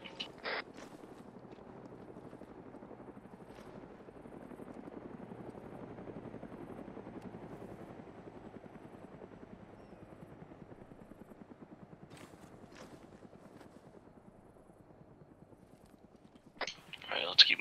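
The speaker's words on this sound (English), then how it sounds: "keep an eye on that helicopter" A Huey helicopter in the Arma 3 military game passes overhead with a steady, muffled rotor drone that swells and fades, and a few sharp clicks and knocks break in near the start and end.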